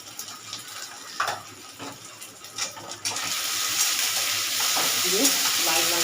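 Ginger, green chilli and garlic paste fry in a pan for a jackfruit kebab, starting with a few stirring scrapes and taps, then settling into a loud, continuous sizzle.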